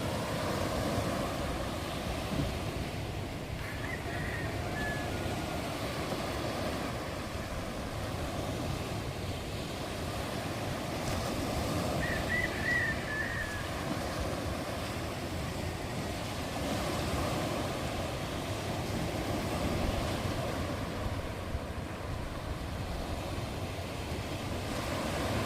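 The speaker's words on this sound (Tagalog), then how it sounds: "Lakas ng agos oh." A strong water current rushes in a steady, broad roar that holds level throughout, with wind noise on the microphone and no voices.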